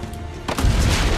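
A cannon fires from a rampart in Assassin's Creed Brotherhood with one sudden booming shot at about half a second, followed by a low rolling rumble that holds loud to the end.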